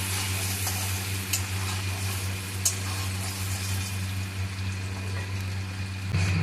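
Dried red chili paste is stirred and fried in a pan with a steady close sizzle and occasional scraping strokes, over a constant low mechanical hum.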